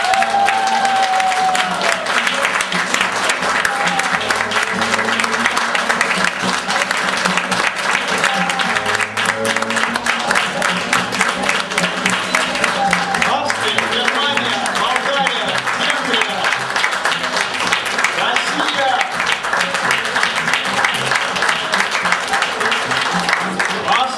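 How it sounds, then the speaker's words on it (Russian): Audience at an improv theatre show in Budapest claps loudly and steadily throughout, a dense sustained applause with some crowd noise and voices mixed in. "погромче им похлопаем и поддержим"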